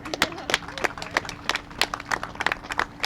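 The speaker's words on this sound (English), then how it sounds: "Can you guys give him a round of applause, please?" A crowd at an indoor COVID-19 testing site event in Lawrence gives the governor a round of applause, with uneven, moderately loud claps repeating steadily for about three seconds.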